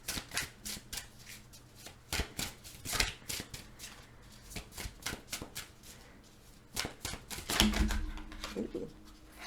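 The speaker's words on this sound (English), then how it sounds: "I'm gonna pull some more cards here for my Capricorns." Tarot cards being pulled and shuffled, a run of crisp riffling and flicking bursts in an uneven rhythm, close and fairly loud, with a brief thump and a soft voice near the end.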